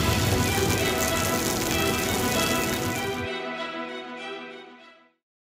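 Cartoon storm with steady rain and wind, a dense, even hiss that suddenly cuts to a lingering tonal ring that fades out.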